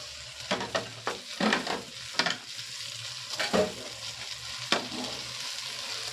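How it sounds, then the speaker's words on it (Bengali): Fried broccoli is stirred with spices in a pan, giving a continuous sizzle broken by several sharp scraping strokes of the spoon at an irregular pace, close and clear with no talk. "ব্রোকলিগুলো দিয়ে আবার একটু ভালো করে নাড়াচাড়া করে নেব, সব মশলাগুলো যেন ব্রোকলির গায়ে লেগে যায়।"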